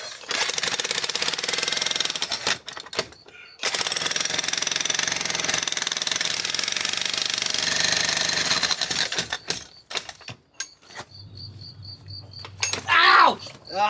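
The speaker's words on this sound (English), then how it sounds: "we're just gonna blow out the bottom with the jackhammer" A jackhammer breaks out a concrete floor in a crawl space, pounding in loud, sustained bursts separated by brief pauses. Near the end, scattered clatter and a short squeal follow.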